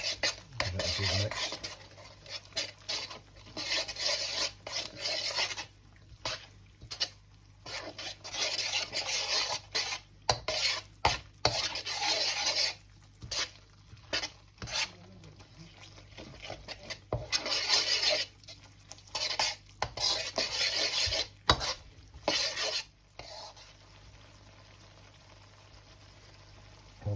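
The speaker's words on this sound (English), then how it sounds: "Give it a good mix." A utensil stirs curry paste and tomato puree in a pan, scraping and rubbing steadily for nearly half a minute with short irregular pauses, close and fairly quiet, with no talking.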